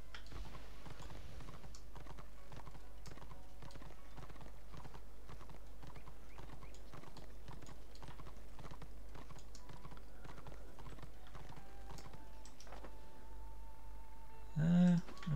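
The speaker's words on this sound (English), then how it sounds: "All right, I have my fast horse now" Galloping horse hooves clip-clop in a steady, continuous rhythm throughout, the fast mount carrying a rider along a road in the Warhammer Online video game, with a brief louder sound near the end.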